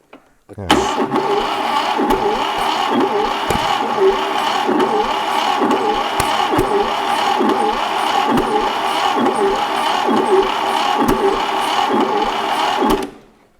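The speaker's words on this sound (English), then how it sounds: "So it's firing, or is it backfiring because it's well out, or backfiring because the valves aren't closing?" The engine of a 1968 Fiat 500, unstarted for 40 years, cranks and fires in a steady rhythmic chugging with regular popping beats, loud and close for about twelve seconds before cutting off.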